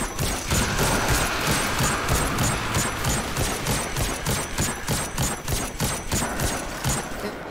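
Rapid automatic gunfire from a weapon in the video game Destiny 2, a loud sustained stream of evenly spaced shots with brief pauses between bursts.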